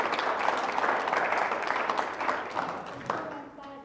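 An audience at a lecture breaks into sustained, full applause that gradually thins and fades, with a voice starting to speak as the clapping dies out at the end.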